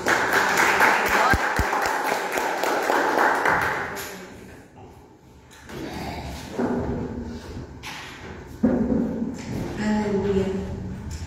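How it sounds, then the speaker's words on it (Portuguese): Church congregation applauds for Jesus, a burst of clapping at the start that fades into shuffling, thuds and murmured voices in the hall. "Uma salva de palmas para o Senhor Jesus."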